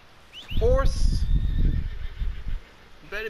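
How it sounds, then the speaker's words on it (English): A horse whinnies with a rising then falling call, fairly close and loud, over a low rumble of movement, followed by a brief second whinny near the end. "This is my new horse."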